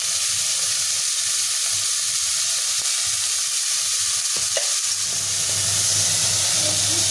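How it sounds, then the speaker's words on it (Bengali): Onions sizzle and hiss steadily in hot oil in a home kitchen pan, a continuous bright frying crackle with a brief clatter of stirring midway and a slightly deeper bubbling toward the end. "প্রথমে তেলের মধ্যে পেঁয়াজ দিয়ে দেওয়া হলো"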